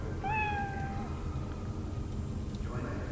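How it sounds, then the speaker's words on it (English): A cat in Cyberpunk 2077 gives one clear, rising-then-level meow near the start, followed by low game background hum and noise. "creepy cat"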